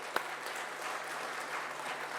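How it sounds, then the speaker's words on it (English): A seminar audience gives a speaker a round of applause, a soft, steady patter of clapping heard from a distance, with one sharper clap near the start. "So a big round of applause for Ishore sir."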